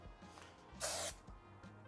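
A single short hissing burst from an AMACO Velvet glaze spray can, about a third of a second, close and clear over quiet background.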